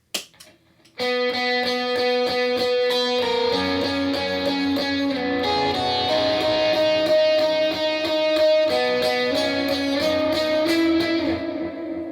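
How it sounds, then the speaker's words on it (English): A driving electric guitar riff from the chorus of a worship song plays loud and close, with repeated picked chords in a steady rhythm ringing on without any voices. "Going into that chorus, we go with this driving riff."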